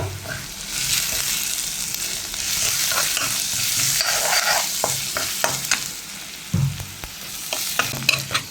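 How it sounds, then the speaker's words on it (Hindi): Onions fry in hot oil in a pan for egg curry, a steady close sizzle running throughout with scattered spatula scrapes and stirring knocks toward the end. "ये हमारा प्याज थोड़ा सा जब तक लाल नहीं हो जाए तब तक करते हैं इसको फ्राई"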